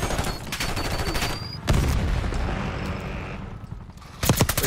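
Bursts of automatic gunfire in Call of Duty: Black Ops 6 multiplayer, loud rapid volleys at the start and again at the end with a heavy boom and rumble in between.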